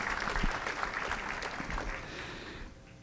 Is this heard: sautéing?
no